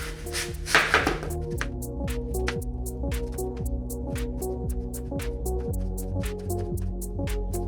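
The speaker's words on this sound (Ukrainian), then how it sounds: "Яблуко необхідно почистити від шкурки і нарізати на дрібні кубики." Knife chopping an apple into small cubes rapidly on a cutting board, a steady run of crisp taps, close up, after a brief rustle at the start.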